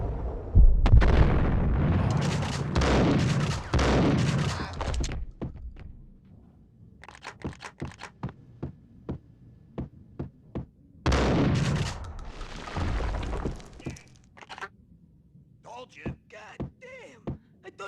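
Gunfire erupts in the Max Payne game, with loud roaring bursts and explosions followed by runs of sharp, separate shots that stop and start. Voices speak between some of the volleys.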